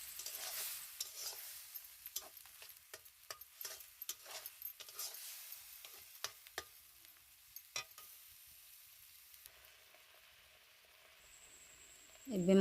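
Masala of onion, tomato and garlic-ginger paste frying in a pan, with a low sizzle and a run of sharp stirring scrapes and taps that thin out into quieter frying before a loud bump at the end.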